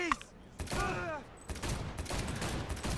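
Gunfire in the video game Cyberpunk 2077 comes in short bursts of loud, close shots with whooshing, ringing effects between them, while someone talks over the shooting.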